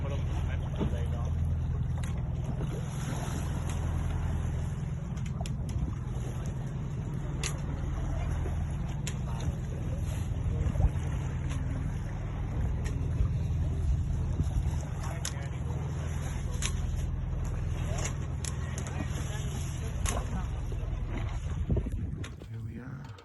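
A sailing yacht lies becalmed at sea between Belfast and Stranraer during the Round Ireland Yacht Race, with a steady low rumble of light wind and water under faint scattered sounds, continuous through the clip.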